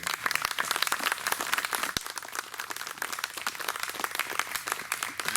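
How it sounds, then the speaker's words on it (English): People gathered at an outdoor grave marking ceremony clap in a modest, continuous round of applause, with individual claps clearly audible at moderate distance. "How about a round of applause?"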